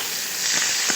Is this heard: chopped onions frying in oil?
yes